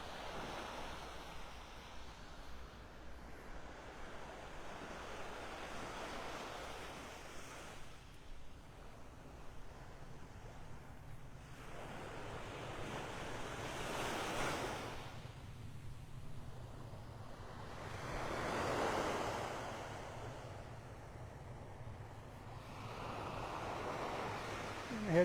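Ocean waves break on a quiet morning beach at Vanderbilt Beach in North Naples, Florida. Soft, fairly distant surges rise and fade every few seconds over light wind noise, with no talking.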